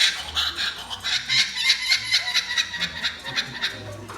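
A rescued kookaburra belts out its rapid, cackling laugh-like call at close range, a loud run of rhythmic chattering bursts that keeps going with no pause.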